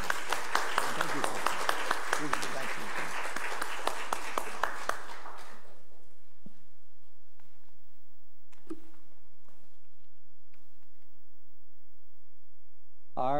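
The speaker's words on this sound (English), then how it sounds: "Let's give a good round of applause to these young people." A church congregation claps for a group of young people at a worship service, a dense burst of applause that runs for several seconds and then tapers off into quiet, with a few scattered claps and faint room sounds afterward.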